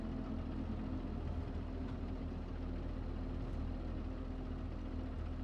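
A Fendt tractor engine in Farming Simulator 22 idles with a low, steady rumble, quiet and even throughout, with no talk.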